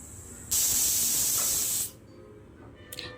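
A pressure cooker on a stove vents while prawn biryani cooks, releasing a loud, sharp whistle-like hiss of steam for over a second before cutting off, leaving quiet kitchen background.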